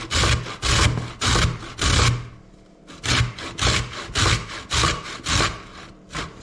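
Beetroot is grated by hand in quick rhythmic strokes, each a loud, rasping scrape close by, about a dozen in a row with a short pause midway.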